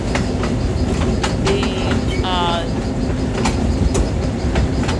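A diesel train rolls through countryside with steady rumble and rhythmic clickety-clack of wheels over rail joints, close and continuous, with a voice talking over it.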